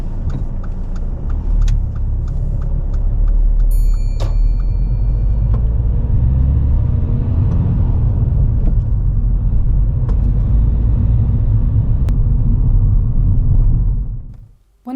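A car pulls away on a driving test: a loud, close, steady engine rumble builds and holds with faint jingling, then fades out at the end.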